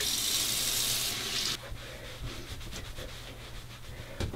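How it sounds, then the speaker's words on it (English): Tap water runs steadily into a sink while dyed hair is rinsed of shampoo, a loud hiss at first, then softer splashing and rubbing as the stream shifts, close by with no voices. "Now what you want to do is shampoo your hair until the water runs clear"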